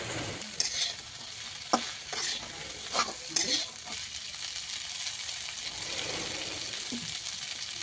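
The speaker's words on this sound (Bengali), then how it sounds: "এবারে ভাজা হবে এটাকে ভালো করে।" Boiled pasta mixed with egg fries in a pan on a home stove, a soft steady sizzle broken by scraping stirs and clinks of the spatula, without speech.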